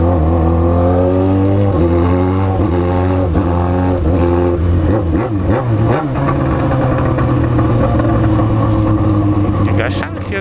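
A Yamaha XJ6 motorcycle runs close by, its engine rumbling steadily with a few quick rising revs in the middle, loud and continuous while people talk over it.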